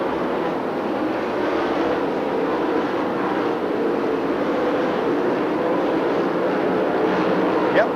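Dirt track race cars from the Xtreme Dirt cars series lapping the oval, a steady, dense engine roar that stays constant at a moderate distance with no breaks.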